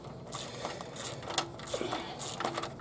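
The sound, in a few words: ratchet tightening belt tensioner bolt on Nissan Frontier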